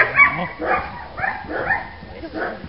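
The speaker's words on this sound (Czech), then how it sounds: "Štěkej, Gloris!" A dog barks on command in a few short, spaced yips and woofs, close by, with a handler's voice speaking between the barks.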